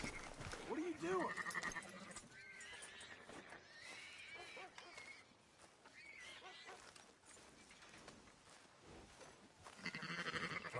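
Sheep bleat in the game Red Dead Redemption, with horse whinnies and a busy mix of background noise and voices throughout.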